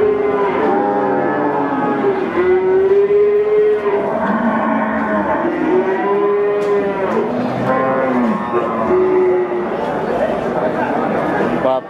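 Pegon cattle, a large bull of about 800 kg, moo repeatedly in long, loud, close calls that overlap almost continuously, with voices talking underneath.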